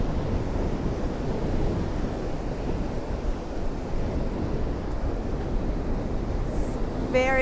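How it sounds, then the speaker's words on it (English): Strong wind on St. Pete Beach, Florida, buffeting the microphone in a steady roar over crashing surf, with a faint voice near the end. "Very windy this week."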